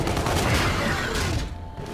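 An LMG light machine gun fires in the R.A.W Repeater video game, a loud, rapid, sustained burst of automatic shots that rattles on for most of the moment before cutting off near the end.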